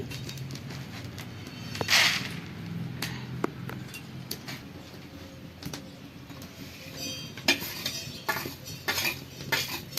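Dry spices such as coriander and cumin seeds rattle and scrape in a pan, with metallic clinks of a spoon stirring at irregular intervals, close and moderately loud.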